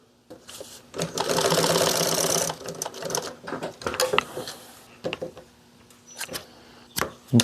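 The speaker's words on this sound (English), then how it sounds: "It just gets sewed on." A sewing machine stitching fabric runs in a loud, steady whir for about a second and a half, then gives way to scattered clicks and handling noises.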